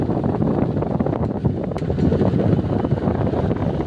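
An Asahi stand fan motor with a worn bushing whirs loudly and roughly up close, a continuous grinding, scraping drone that churns without letup.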